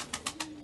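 Sivas pigeons coo nearby in three short, soft pulses over a steady low hum.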